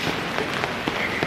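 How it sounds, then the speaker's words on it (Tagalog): Rain falls steadily on an island in Samal, a dense, even patter with scattered louder drops, close and continuous with no voices. "Hindi tayo makapag-vlog kasi umuulan man."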